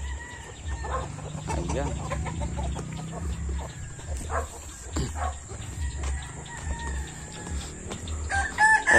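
Roosters and other chickens on a small farm crowing and clucking at moderate distance over a constant background hum, while someone talks briefly.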